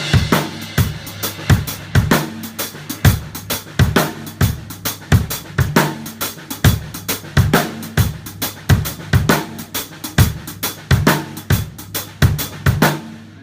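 Drum kit playing a groove, both measures joined in a steady shuffled pattern of crisp hi-hat and snare hits over kick drum, played close and loud with no talking.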